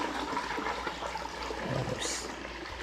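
Water runs and trickles steadily as a couple more gallons are added to a container for cleaning and dyeing used traps, a faint continuous pouring with a brief splashier burst near the end.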